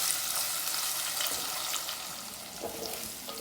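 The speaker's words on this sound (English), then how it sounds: "Let's mix it, fry it for a couple of minutes, and we can also add the green chilies." Fish curry masala and green chilies fry in oil while being mixed, a dense, steady sizzle that fills the whole moment, with a few faint scrapes of stirring underneath and no voices.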